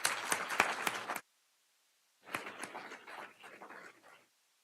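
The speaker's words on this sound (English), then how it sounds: "Let's give her a round of applause." Audience applause at an academic awards day ceremony, two bursts of clapping separated by a short silence, moderately loud and full, with no voices over it.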